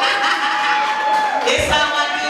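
A crowd at a hip hop LP release party whoops, yells and cheers loudly and continuously, with a burst of shouting near the end.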